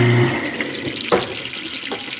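Water runs from a sink faucet in a steady rush, with a few clunks and splashes over it, close by and with no voices.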